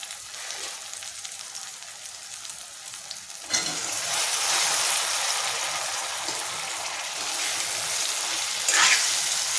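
Prawns and drumsticks fry in a pan for a curry, a steady sizzle that jumps louder partway through as more pieces go in, then keeps hissing continuously with no talking.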